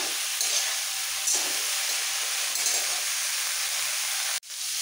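Cauliflower pieces frying in oil in a pan, giving a steady, close sizzle with light stirring scrapes throughout, cut off abruptly near the end.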